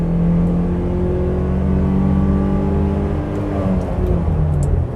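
2013 Chevrolet S10 LTZ Flex 4x2 manual pickup accelerating hard on the road, engine note climbing steadily in pitch, loud and close inside the cab with road noise beneath.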